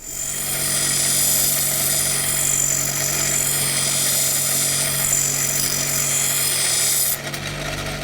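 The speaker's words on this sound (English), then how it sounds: "I'm going to use this little grinding wheel here to grind a nice blade on it" A small grinding wheel sharpens a lawnmower blade in a garden, a loud steady whine and rasp that holds for about seven seconds before cutting down to a quieter run.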